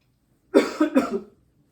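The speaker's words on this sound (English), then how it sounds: "I just coughed." A single person coughs close by in a quiet clinical room during a head-to-toe physical exam, two or three sharp bursts in quick succession, then silence.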